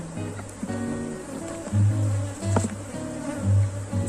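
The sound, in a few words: weak bee swarm buzzing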